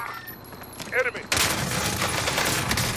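Gunfire in the battle royale game COD Warzone erupts abruptly after a brief quiet stretch, a dense, sustained burst of rapid shots that stays loud to the end, with a short voice heard just before it starts.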